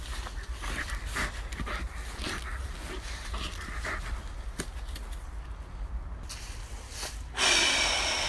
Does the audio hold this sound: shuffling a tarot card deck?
no